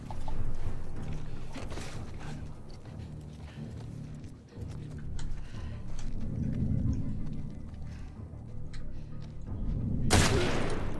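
Scattered gunshots from a distance in the survival game The Last of Us Part II, thudding and popping irregularly over a low rumble, with a louder sharp crack near the end.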